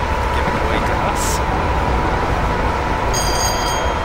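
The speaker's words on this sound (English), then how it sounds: "There's another freight train that is giving way to us." A freight train rumbles past in Train Simulator 2016 on the Glasgow to Carstairs line, a steady loud roar of wheels and wagons with brief high squeals, heard from a cab.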